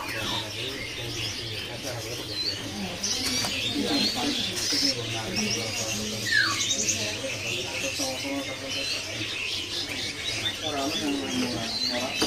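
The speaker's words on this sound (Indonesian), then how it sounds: "ini ada burung sempur ya" Four young sempur birds call from a bird-selling kiosk, a steady stream of chirps and twitters that runs throughout, with someone talking over them.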